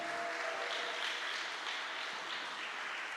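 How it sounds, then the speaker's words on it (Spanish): A congregation at a church service applauds, a continuous wash of many hands clapping at moderate volume, with a brief held tone underneath at the start. "Démosle un aplauso al Señor, aleluya."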